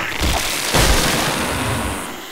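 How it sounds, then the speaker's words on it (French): A chopped tree trunk falls and crashes in 7 Days to Die, a loud low boom with a second heavy thud after it, then a rumble that slowly fades out, with no talking. "Oh putain, c'est le bruit du tronc."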